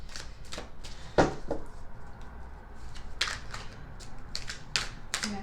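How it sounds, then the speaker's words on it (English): Tarot cards are shuffled by hand in a string of crisp riffling bursts and soft slaps, close up and fairly quiet, with short pauses between the shuffles. "going to shuffle for a minute and then we'll get this going."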